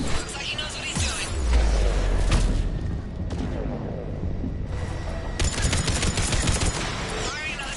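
A missile salvo and heavy gunfire in the video game Mass Effect, with dense rapid bursts and booming blasts close and loud throughout, a voice speaking briefly over the barrage.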